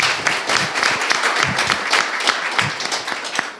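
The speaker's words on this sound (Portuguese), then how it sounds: "Salve de palmas pro Gabriel aqui." Live podcast audience applauding on the recording of episode 100, a dense, steady wash of clapping that carries on for several seconds at a fairly loud level with no voices over it.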